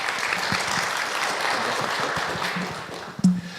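A seminar audience gives steady, moderate applause to welcome attorney Park Dong-gyu before his talk on immigration policy. The dense clapping continues evenly, then thins out, and a single dull thump sounds near the end.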